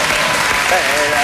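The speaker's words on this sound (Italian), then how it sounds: "senti che applauso ti sei beccato" Recorded applause played back over a live radio broadcast, a dense steady wash of clapping lasting about a second with a voice faintly mixed in.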